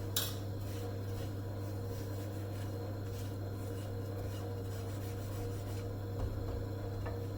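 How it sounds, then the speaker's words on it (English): A spoon scrapes ghee in a pan, a soft steady rubbing and rasping of metal, close and continuous, with a low constant hum underneath and a faint clink near the end. "Just gonna scrape off that ghee."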